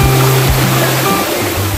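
The Montel waterfall in the Muria mountains of Central Java pours in a loud, continuous roar of rushing water, with some faint tonal sound mixed in beneath it.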